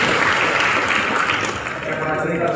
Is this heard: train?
no